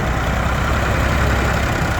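A vintage Lincolnshire-registered tractor in original condition runs steadily at a parade at a steam rally, its low engine note close and continuous with a broad rumble and no talk over it.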